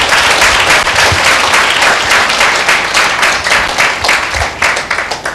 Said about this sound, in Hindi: एक जोरदार ताली देते